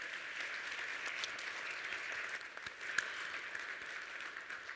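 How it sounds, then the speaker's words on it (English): A business forum audience gives the panelists a round of applause, a steady, moderately quiet mass of clapping from a large hall, with a couple of sharper claps near the middle and no talking over it. "please give my panelists a big, big round of applause"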